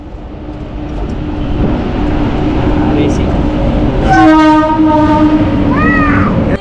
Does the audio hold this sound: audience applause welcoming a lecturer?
no